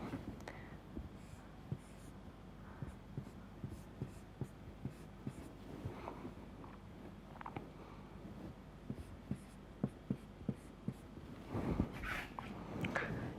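Chalk or marker tapping and scratching on a board during a math lecture on eigenvalues, a series of faint, quiet, irregular strokes and taps with soft room noise and no talk.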